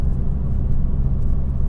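A Fiat 500 Abarth driving on curvy roads in normal mode gives a steady, close, low engine and road rumble that holds at an even level throughout, with no talking.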